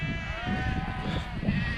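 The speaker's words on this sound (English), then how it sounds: "Bunch of sheep just coming at you." A flock of sheep bleats in overlapping, wavering calls, loud and close, on a farm near Kirkby Stephen during a coast-to-coast walk.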